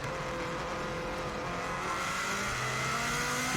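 A 2016 Subaru WRX STI rally car drives flat out at the Isle of Man TT, its engine droning and revving continuously at moderate volume, heard from on board without a break.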